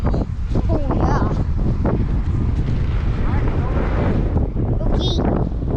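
Strong wind buffets the microphone on a farm as a tarp is pulled over a feed bunk, a loud continuous roar with gusts. Voices are faintly heard beneath it.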